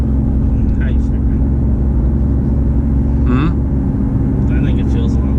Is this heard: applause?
no